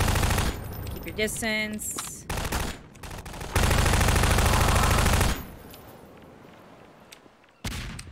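Shotgun fire in Half-Life 2, heavy booming blasts in close succession with sustained loud gunfire and a brief synthetic game voice speaking, followed by quieter fading ambience and one more sharp burst at the end.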